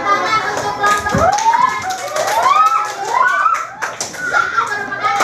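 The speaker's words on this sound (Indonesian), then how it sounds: "Tepuk tangan untuk kelompok" Primary school pupils clap for a group in an Indonesian classroom lesson. Scattered taps and claps come in bursts while children's voices talk and call over them.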